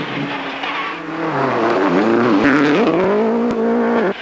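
Tim McNulty's Subaru rally car at full throttle on a stage of the Galway International Rally 2006, its engine loud and close, revving and climbing through gears with brief tyre scrabble, nothing else heard.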